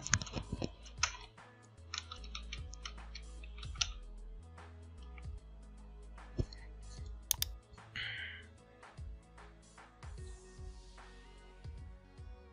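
Keys on a computer keyboard are typed in irregular bursts while a domain name is entered, close and fairly quiet, with short pauses between clusters of clicks.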